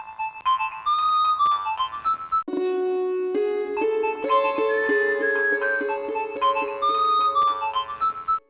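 A mobile phone ringtone plays a bright, loud electronic melody of chiming notes, repeating phrases continuously for several seconds with no talking.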